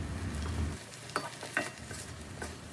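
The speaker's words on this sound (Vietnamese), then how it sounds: "Rồi bây giờ Lan xào lên cho nó thấm gia vị nha." Seasoned vegetables with vegetarian mushroom-based seasoning are stir-fried in a pan for spaghetti with meat and seafood, giving a quiet sizzle and a few soft scraping stirs of a utensil against the pan.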